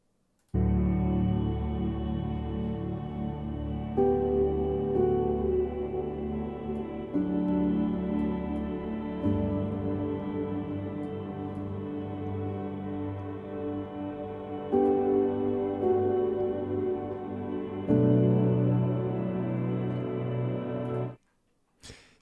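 An ambient music track built from swirling granular synth pads plays steady, soft, layered chords that shift every few seconds for about twenty seconds, then stop abruptly.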